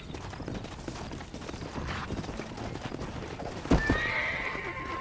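Hooves clip-clop at a gallop, then a horse gives a loud, sharp neigh near the end, from Red Dead Redemption, game-like and close.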